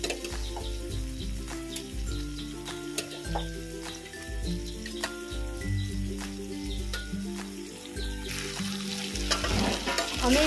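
Fried potatoes stirred into a masala of spices cooked in oil, with a steady close sizzle running under scraping stirs and a brighter burst of frying near the end; no talking.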